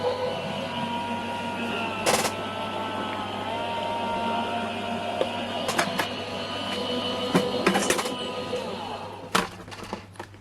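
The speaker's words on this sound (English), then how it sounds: "So I'm just going to pop those through on the Gemini machine." Crafters Companion Gemini electric die-cutting machine feeding card pieces through: a steady low motor hum with scattered sharp clicks and clunks, moderately loud and close.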